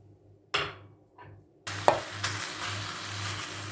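Tantuni meat cooking in a pan on the stove, a few brief clattering bursts and then a steady close sizzle for the last couple of seconds.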